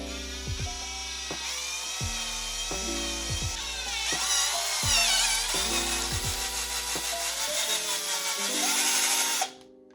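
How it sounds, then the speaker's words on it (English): A drill driving a Hatlight 2564 bit slowly straight through a part, a steady whining motor under repeated grinding bites of the bit, close and continuous, ending abruptly. "for the Hatlight 2564 drill bit, we're just gonna go straight through"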